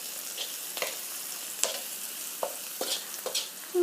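Onions sautéing in a pan for fried rice, a soft steady sizzle broken by several brief scraping stirs of a utensil, close and fairly quiet with no talk.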